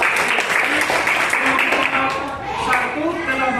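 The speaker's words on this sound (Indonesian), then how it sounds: "tepuk tangan untuk" A class of students claps in a classroom during a teaching session, steady close applause with children's voices chattering underneath.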